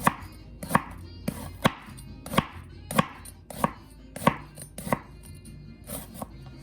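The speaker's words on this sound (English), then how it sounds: "This is how I like to cut my onions." Knife chopping onions on a cutting board, about a dozen sharp, evenly spaced cuts, close and crisp with no voices.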